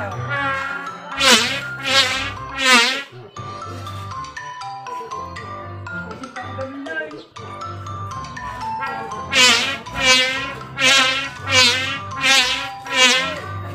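A sack hummer (sumba) made for a Guryon kite drones like a big fly, its loud, reedy buzz swelling and fading in pulsing waves, with a quieter, steadier hum in between.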